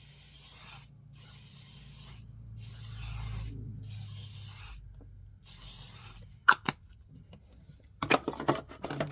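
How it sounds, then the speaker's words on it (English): L'Oreal 3-second setting spray mists out in four short hissing bursts at close range, each lasting under a second, followed by a few soft taps and rustles. "that L'Oreal 3-second setting spray is going to freeze it."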